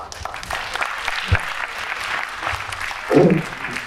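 An audience applauds during a doctor's health lecture: dense, steady clapping from a room full of people for several seconds, with a voice faintly heard over it.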